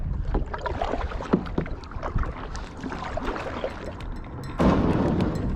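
Canoe or kayak paddling across a lake on an island camping trip, with steady water splashes and paddle strokes close by and a louder splashing burst near the end, no talking.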